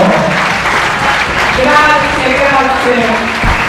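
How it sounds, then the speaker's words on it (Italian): An audience applauds at a beauty pageant selection night in Bojon near Venice, a dense, loud clatter of clapping with voices talking over it. "un applauso!"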